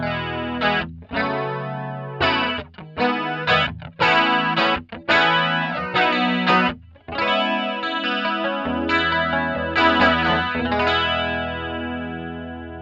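Chords on an electric guitar through a Roland Jazz Chorus amplifier with a strong chorus-vibrato effect, the tone warbling and wavering as strums ring out in bursts, loud and close.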